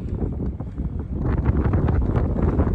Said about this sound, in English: we're heading into unbelievable headwind